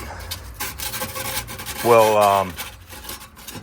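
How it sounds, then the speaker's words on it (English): Abrasive scuffing of a shiny painted engine bay surface on an old car, short rough rubbing strokes close to the microphone, with a brief squeaky burst partway through. "we're just gonna scuff up the shiny stuff, really."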